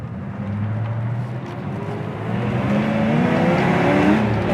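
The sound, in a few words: 1983 Mustang GT Fox Body accelerating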